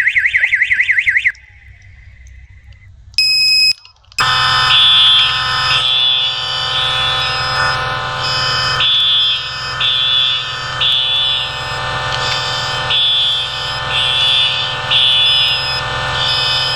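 Federal Signal 450D fire alarm horns in Roblox blare loudly and continuously in a pulsing, layered chorus after a brief electronic beeping start and a short gap.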